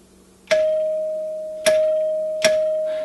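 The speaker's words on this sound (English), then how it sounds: "Let's go ahead and ring it. We'll do the side door first." A NuTone LA70 short-tube bar door chime strikes its side-door tone three times, each clear metallic ring ringing out and slowly decaying before the next strike, alone and close.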